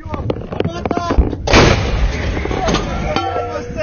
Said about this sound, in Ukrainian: Давай постріл!